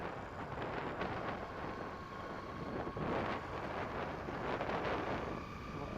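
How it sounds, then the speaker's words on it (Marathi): Steady rushing wind buffets the microphone while a Splendor motorcycle rides at night through Bhusawal, a continuous roaring noise with slight swells and no clear speech. "केवढं वारं वाटतं भुसावळमध्ये"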